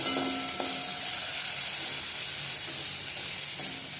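Halved large tomatoes frying in a pan for red sauce pasta, a steady broadband sizzle running the whole time with a few faint tonal clinks from utensils, with no talk.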